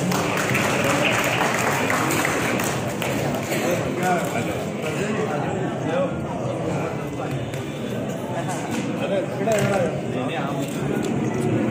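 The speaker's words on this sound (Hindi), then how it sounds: "जोरदार तालियों स्वागत करें" A large crowd of community members, including many women, applauds at a Yadav Ahir Sena gathering ceremony, a dense, steady wash of clapping that lasts throughout, with a voice talking over it.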